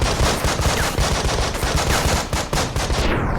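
Rapid gunfire in the Breach and Clear tactical video game, with dense bursts of shots firing in quick succession, loud and continuous throughout, no talking.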